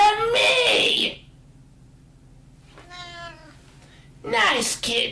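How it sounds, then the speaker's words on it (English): A cat meows in the Transformers animated series, with two drawn-out, whiny cries, one at the start and one near the end, each loud and close, and a fainter mew in the quiet between. "Nice kitty."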